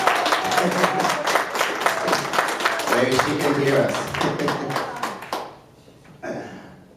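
A church congregation claps steadily for about five seconds, a lively patter of many hands close by, while a voice speaks briefly over it; the clapping then stops abruptly into near silence.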